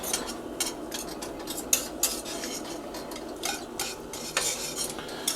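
Whisk stirring cheese sauce for bacon mac and cheese in a pot, a steady run of close metallic scraping and tapping strokes over a faint sizzle, with no talking.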